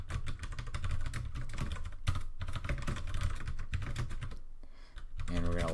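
Rapid clicking on a computer keyboard while code is typed, in dense continuous keystroke bursts with brief pauses, close and clear, with faint voice-like sounds underneath.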